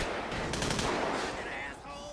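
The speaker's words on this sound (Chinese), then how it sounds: "别再开枪射我啦。" Rapid bursts of gunfire from the video game GTA V crackle in quick succession, fairly loud with a dense rattling texture that tapers off toward the end.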